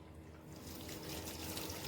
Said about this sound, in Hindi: तो मशीन अब पानी लेगी